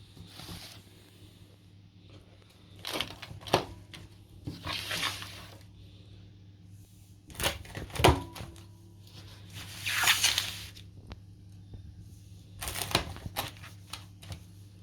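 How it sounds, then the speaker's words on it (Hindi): A knife cuts homemade Italian-style pizza into small pieces, making several separate crunching and scraping strokes spaced a few seconds apart against a quiet, steady background hum. "ये पिज़्ज़ा काट दिया।"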